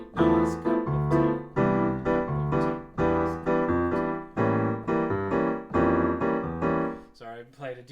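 Jazz piano plays a walking bass line in the left hand while the right hand comps chords, a steady stream of detached notes and rhythmic chord stabs, clear and close for several bars.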